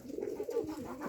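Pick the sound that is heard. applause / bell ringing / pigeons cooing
pigeons cooing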